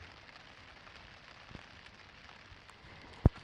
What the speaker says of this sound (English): I can just sit right here now and watch the rain, I guess.